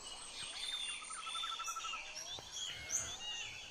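Rare birds chirping in an aviary at Jurug zoo in Solo, with a steady mix of high twittering calls and short chirps over soft background ambience, moderately close and fairly even throughout.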